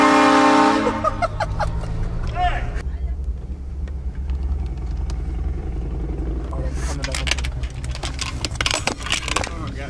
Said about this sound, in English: Air horn is not legal whatsoever.